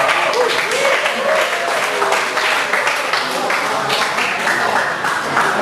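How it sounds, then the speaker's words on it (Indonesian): Sustained audience applause fills a student debate hall at a law faculty election forum, steady and loud throughout with a few scattered voices mixed in. "memanaskan suasana bisa tepuk tangan terlebih dahulu"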